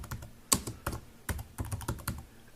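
Typing on a computer keyboard, a sparse irregular series of distinct close key clicks with one sharper, louder strike, with no talking.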